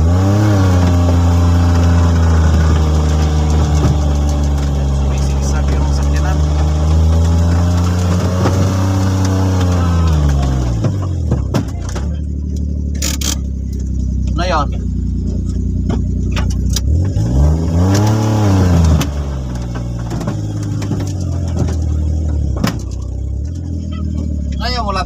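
Loaded Multicab mini truck stuck in the rain, its engine revving hard in long rising and falling surges that are loud and close, then idling lower, with voices talking over it.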